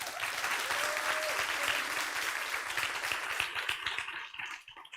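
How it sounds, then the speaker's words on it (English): An audience at a school celebration event claps in sustained, dense applause after a performance, steady and loud throughout before thinning slightly toward the end. "Please join us in another round of applause for Margarida."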